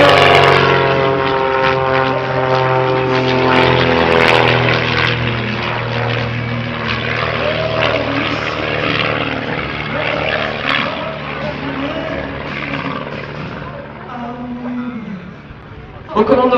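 A 1950s propeller airplane rocking its wings at an air show over Limoges Bellegarde airport, its engine droning loud and close with a strong rising then steady tone while an announcer speaks over it throughout.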